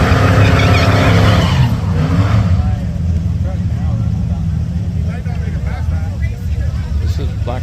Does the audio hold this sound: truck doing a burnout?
yes